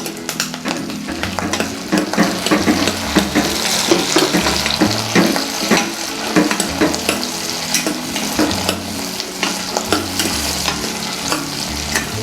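Curry leaves and tomatoes sauté in hot oil for a brinjal kara kuzhambu, with a loud continuous sizzle and frequent stirring clatter.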